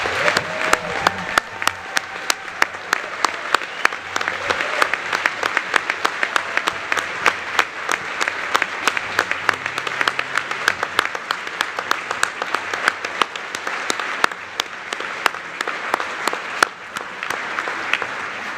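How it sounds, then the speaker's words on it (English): Sustained applause from attendees at a medical college commencement ceremony for the graduating class of 2022, a large crowd clapping steadily and evenly throughout. "I believe we owe the class of 2022 one more round of applause"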